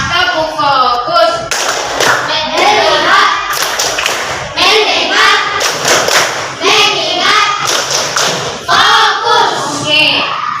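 Primary school children in a classroom do a rhythmic focus-clap chant, voices chanting in unison with bursts of clapping and thumps in a repeating pattern, loud and close, with a teacher's voice leading.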